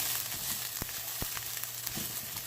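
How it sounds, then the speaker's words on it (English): Garlic sautéing in a hot pan for smothered potatoes, a steady close sizzle with a few sharp clicks and pops from stirring, no voices. "I'm just going to saute this."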